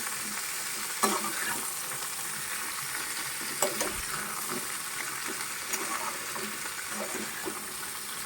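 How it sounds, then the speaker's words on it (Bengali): Mixed vegetables and Malabar spinach with salt fry in oil in a pan, a steady close sizzle with occasional scrapes of a stirring spoon, no voices. "ভালো করে ভাজা ভাজা করব। গ্যাস কমিয়ে দেবো।"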